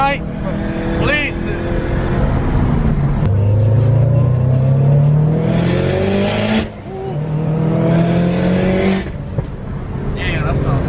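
A loud 600+ hp Subaru STI engine revs and accelerates through rising gear pulls, roaring up in pitch, dipping at shifts, with voices talking over it.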